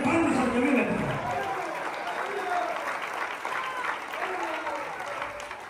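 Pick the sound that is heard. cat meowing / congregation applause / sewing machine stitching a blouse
congregation applause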